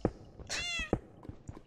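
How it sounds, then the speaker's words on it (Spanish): A cat meows once in a video game, a clear, drawn-out, close call set between several dull thumps. "Miau, ¿qué? No, no grites, por favor,"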